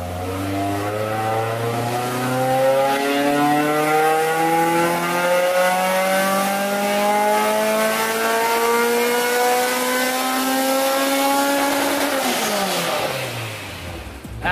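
A Honda S2000 on a dyno makes a wide-open-throttle pull from about 2,000 to 8,500 RPM, its engine note rising steadily in pitch and staying loud and close before dropping off abruptly at the end.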